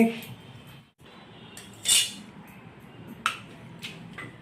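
Peeled peanuts shift and rattle in a metal strainer as their skins fall away: a soft, steady rustle with a few sharp metallic clinks, fairly quiet and close.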